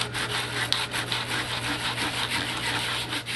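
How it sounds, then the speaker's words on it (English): Salt-washed painted wood is hand sanded with coarse 60 to 80 grit sandpaper in steady, close rasping back-and-forth strokes that run continuously, with no talk. "you're going to want to use just a piece of sandpaper, 60 or 80 grit, and some good old-fashioned elbow grease"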